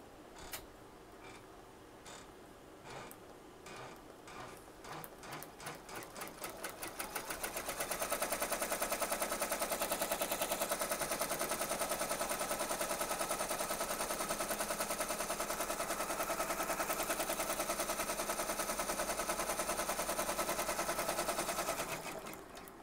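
Embroidery machine stitching a placement line on a Dollar Tree faux leather patch, starting with a quick, ticking needle rhythm, then building into a loud, steady mechanical whir that holds for about fifteen seconds before easing off.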